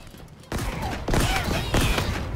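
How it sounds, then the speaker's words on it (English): Gunfire in Halo Infinite during a campaign firefight, with sharp repeated bursts starting about half a second in and renewed volleys a second and two seconds later, loud and close with no talking. "I'm under fire!"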